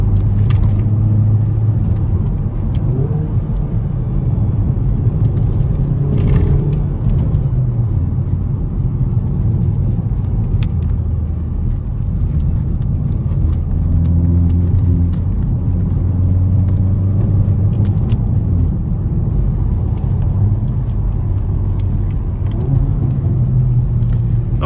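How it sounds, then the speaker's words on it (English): A Hyundai i30N pulls hard through its gears on tight country roads, the engine note loud and steady inside the cabin, rising and dropping with each shift for the whole stretch. "So sit back and listen to as Natalie goes through the gears."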